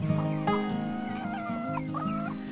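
Plymouth Rock and Carijó chickens cluck and murmur in a farm coop, several birds overlapping in short, close calls with no one talking.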